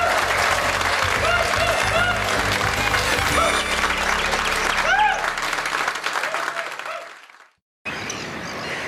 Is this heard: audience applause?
yes